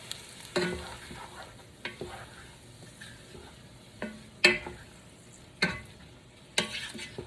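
Garlic sautés with vegetables in a pan for red beans and rice, a soft steady sizzle broken by several sharp scrapes and clacks of a spoon stirring against the pan.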